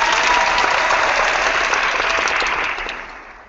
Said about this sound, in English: I'm going to go ahead and hit my applause tool